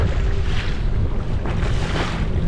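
A fishing boat crossing waves on a reservoir in November, loud steady engine rumble with water slapping against the hull and heavy wind buffeting the microphone, no voices.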